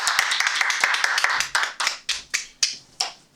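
Scattered clapping at a Toastmasters meeting, a few separate sharp claps close by, spaced irregularly and ringing briefly in the room before fading toward the end.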